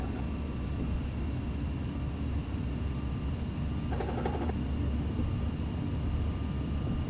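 An airplane rolls toward the runway on a flight from Boston, a steady broad engine rumble and whine droning evenly throughout from inside the cabin, with a brief chime partway through and no speech.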